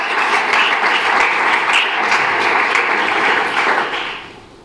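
A church congregation breaks into loud, dense applause that fills the room, then fades away toward the end.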